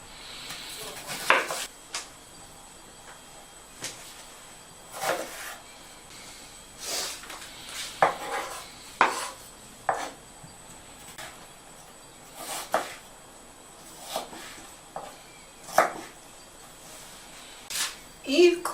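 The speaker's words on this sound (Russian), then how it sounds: "Теперь дорежем лучок в маринад." A kitchen knife cuts onion on a board for a marinade in irregular single thuds and taps, about a dozen over the stretch, with quiet gaps in between.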